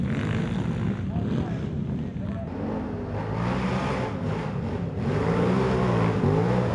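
700-pound 4x4 ATV quads racing at a GNCC event, a dense rumbling and revving of several engines, loud and continuous with rising and falling pitch, mixed with some talk.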